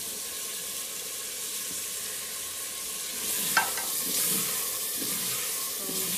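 Potatoes frying in a pan in a village kitchen at night, a steady close sizzle that holds throughout, with a short clatter of stirring about halfway through.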